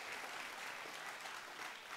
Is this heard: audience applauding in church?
yes